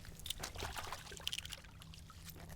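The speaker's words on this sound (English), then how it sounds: "Give it a rinse off in the salt water" Fish rinsed in salt water from a riverbank, with soft irregular splashing and trickling close by, faint and uneven throughout.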